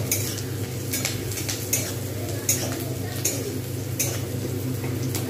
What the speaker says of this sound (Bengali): এরকমভাবে আমি কিন্তু নাড়বো যতক্ষণ পর্যন্ত ঠিকঠাকভাবে কালারটা না আসে